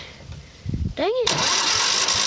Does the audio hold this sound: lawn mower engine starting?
yes